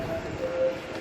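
A train runs at a rail station in Malaysia, giving a steady, moderately loud rumble with faint tonal whine over about a second, with no talk.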